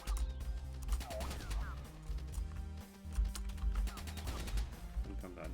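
Wall turret firing in the Destructivator 2 video game, rapid repeated shots in dense bursts over loud background game music, with zapping effects between volleys.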